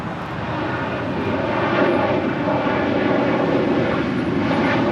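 Airbus A350 jet departing at LAX, a loud, steady broadband roar of engines near the runway, sustained throughout without a break.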